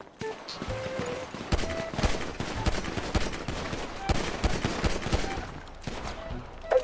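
Rapid bursts of gunfire crackle continuously, dense and sharp, with faint tonal game sounds mixed in and no clear speech.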